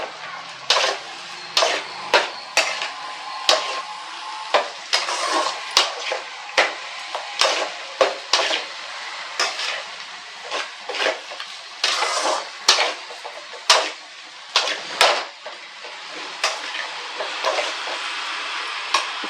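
Raw mango rice is stirred in a pan, with a utensil knocking and scraping against the metal in a steady run of sharp clinks and clatters, close and fairly loud, with a soft background hiss between strokes.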